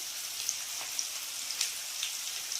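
Mutton lungs fry with onion in a pan, a soft, steady sizzle with scattered small pops and crackles, moderately close and without talk.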